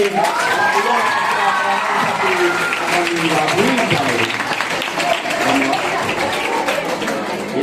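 An audience claps and cheers steadily after a humorous Marathi poem at a writer-student reading event, a dense sustained wash of applause with voices calling out over it.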